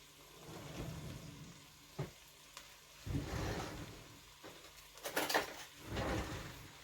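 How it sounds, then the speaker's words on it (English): Okra soup ingredients frying in a pot for a West African recipe, giving a quiet sizzle with a few clattering stirs and short bursts of louder crackle, heard alone without talk. "Just fry it a little bit."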